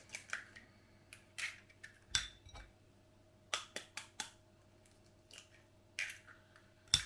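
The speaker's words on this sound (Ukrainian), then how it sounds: "І тепер потрібно два яйця розбити та вилкою добре перемішати." A fork strikes and scrapes inside a bowl while two eggs are beaten for a meat breakfast dish, sharp clicking taps arriving in short irregular bursts with quiet gaps between them.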